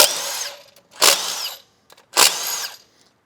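Three close, loud bursts of a power wrench whir in a rhythmic on-off pattern, separated by brief silences, as a 13 mm throttle bracket bolt is removed on a 2001 Dodge Cummins truck engine.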